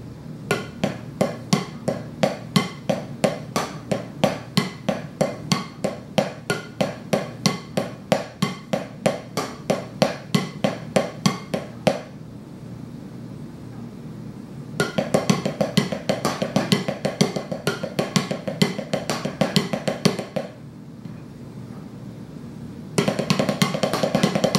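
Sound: multi-drum triplet drill played on drums

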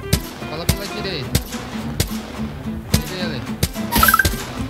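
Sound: gunfire in Apex Legends video game

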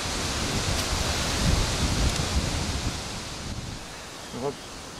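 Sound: strong wind

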